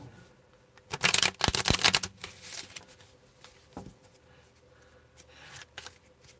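Crystal Visions tarot cards being shuffled in a quiet room: a dense riffling burst of papery flutters and snaps, followed by softer, scattered card slides and taps.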